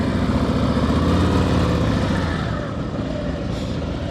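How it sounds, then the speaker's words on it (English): Motorcycle during advanced slow-speed riding practice in Nevada, engine held in second gear and straining against the brake, a steady close low rumble that eases slightly near the end, with no voices. "I can hear that bike fighting"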